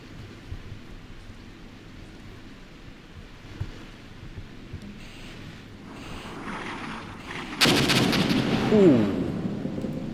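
Artillery fire in the war game Armored Brigade, with a near town under bombardment: faint distant rumbles build, then one loud booming blast hits late, trailing off with a low rumble.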